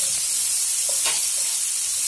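Garlic and spices frying with onions in a pan for a lamb tagine, a steady close hiss with a short sharper sizzle burst in the middle.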